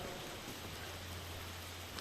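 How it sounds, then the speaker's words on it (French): Rain just starting to fall outdoors near a church in France, a faint, steady patter and hiss that holds evenly over a low hum, with no one speaking. "Il vient de se mettre à pleuvoir là"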